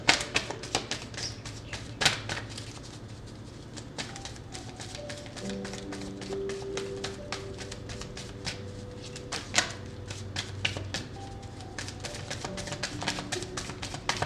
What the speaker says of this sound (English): I'm taking the cards all the way over here so that shuffling is not too loud.